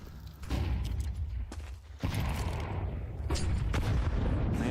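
Grenade blasts go off in Counter-Strike during a professional ESL Pro League grand final match. Several loud, booming bursts hit in quick succession over a dense, noisy game soundscape.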